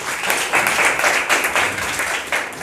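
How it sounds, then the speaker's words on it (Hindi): Loud, sustained applause from a crowd of party workers and supporters at a BSP gathering in Delhi, a dense steady roar of many hands clapping close by. "उनका जोरदार तालियों से स्वागत करें।"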